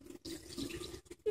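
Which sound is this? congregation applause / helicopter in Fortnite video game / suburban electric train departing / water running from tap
water running from tap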